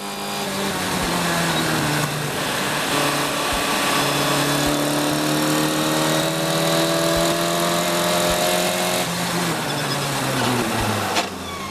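A race car engine runs steadily during gentle running-in test laps at Mallory Park circuit, droning continuously with slowly shifting pitch as revs rise and ease, heard from onboard without any speech.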